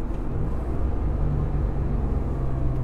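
A high-mileage Acura NSX with a hesitation fault runs up in revs, a steady low, loud engine rumble holding evenly throughout with no speech.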